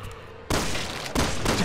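Gunfire in a zombie video game: two loud, harsh bursts, one sudden and then another about half a second later, each leaving a dense noisy wash after a quieter start.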